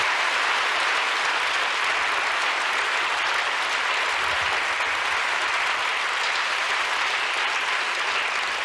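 Loud, sustained audience applause before a performance of The Rite of Spring, dense steady clapping from a large crowd filling the whole stretch without a break.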